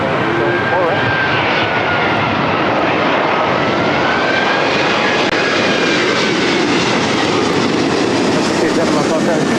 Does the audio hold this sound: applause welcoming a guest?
no